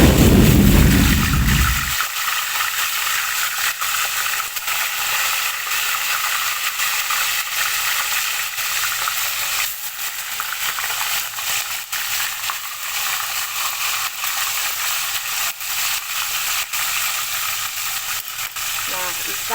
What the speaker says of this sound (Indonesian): Sepertinya minyaknya sudah panas, jadi bisa kita masukkan ikannya ya